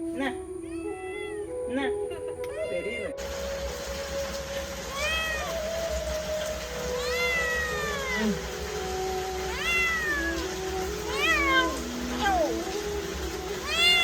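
A pet cat that is fed chicken meows repeatedly and clearly, with short, rising and falling calls at irregular intervals, and some voices can be heard faintly.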